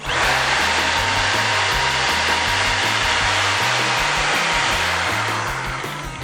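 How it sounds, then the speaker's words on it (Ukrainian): An electric jigsaw runs on an Apro portable power station, a loud, steady motor whine with rapid rattling blade strokes, continuous and close, easing off slightly at the end. "Так, давайте відразу підключимо лобзик."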